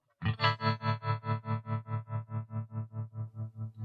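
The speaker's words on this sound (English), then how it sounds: "it's going to kind of sound like a tremolo now because I'm in mono mode" A Donner Alchemy guitar pedal in mono mode pulses a distorted sustained note in an even tremolo-like throb, around fifteen regular swells that slowly fade, loud and alone after a sharp attack.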